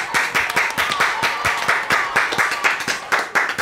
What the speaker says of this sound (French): Donc, on les applaudit bien fort.